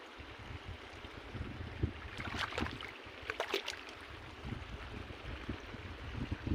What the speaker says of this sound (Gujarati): જો આવી રીતના 2 મોટરનું પાણી હાલે છે।